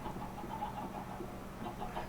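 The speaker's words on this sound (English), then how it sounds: "I got the chickens down here, and as you can see, they're laying eggs" Chickens cluck steadily in the video game Gray's Island Life, a soft continuous chatter of fowl sounds layered over a low background hum.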